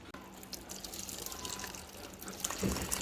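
Curdled soy milk strained through cloth for soybean paneer drips and trickles with a soft, continuous wet patter, close and fairly quiet, with a louder splash near the end.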